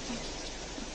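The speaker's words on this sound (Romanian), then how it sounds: "ascultați ploaia cum cade pe lac" Steady rain falls on a lake in a dense, even hiss with no breaks, soft and continuous throughout.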